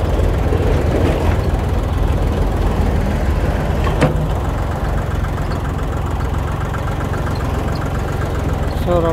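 A loader's engine runs steadily and loudly at close range with a rough, chugging idle, a brief sharp metallic clank partway through.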